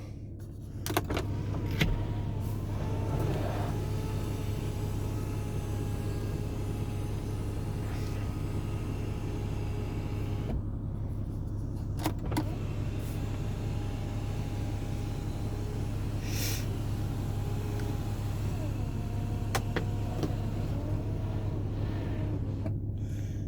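In a 2015 Porsche Cayenne Diesel cabin, the electric roof shade motor runs as a long, steady low whir with a constant hum underneath, interrupted by a few faint clicks and brief small knocks, heard from inside the car with no talking.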